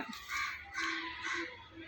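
Crows cawing around food set out on an upper floor, a few harsh calls repeating at moderate distance over a noisy outdoor background.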